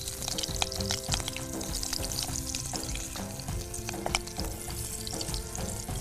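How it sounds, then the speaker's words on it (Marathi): Green chillies with their stems removed and slit down the middle hit hot oil in a pan, giving a close, steady sizzle and crackle with small bursts as they fry. "चार चार मिरच्या घेतल्यात आपण चार मिरच्या घालतोय"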